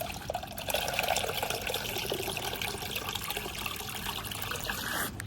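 Water trickles and pours quietly into a container indoors, a soft continuous stream that holds steady from start to finish.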